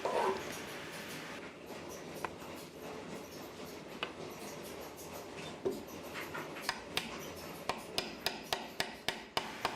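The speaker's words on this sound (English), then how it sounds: "I had to file it down into more of a circle so that it would fit inside." A rasping file works an oval antler piece into a rounder shape for a red oak recurve bow, with soft scraping strokes that grow into a steady run of sharp, evenly spaced rasps toward the end.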